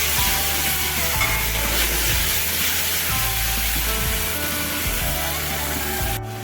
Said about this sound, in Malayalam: ഇനി ഇത് നന്നായിട്ടൊന്ന് ഇളക്കി യോജിപ്പിച്ചെടുക്കാം.